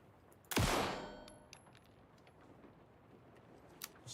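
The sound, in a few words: gunshots at a lock in video game Alan Wake 2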